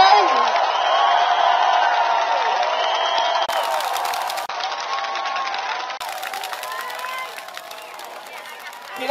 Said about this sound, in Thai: ส่งเสียงโห่ร้องให้ดัง ๆส่งเสียงโห่ร้องให้เจ้าของบางทวีวัฒนาบอกว่าให้มารู้ว่าเราเจ๋ง